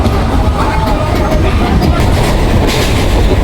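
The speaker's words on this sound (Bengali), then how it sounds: "একদম কারেক্ট টাইম 4:54-তে আমাদের ট্রেন ঢুকে গেল" A local train pulls into Phulia station in the early morning, with a loud, steady rumble and wheel clatter filling the whole moment.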